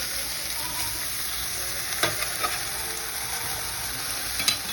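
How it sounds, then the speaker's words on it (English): A salmon fillet just flipped in a hot pan with a little bacon grease sizzles steadily and close, with a few soft scrapes and taps of a utensil, and no one speaking. "So I'm going to just take the fish, do a quick flip."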